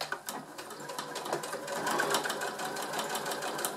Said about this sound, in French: Donc je suis en place pour ma couture.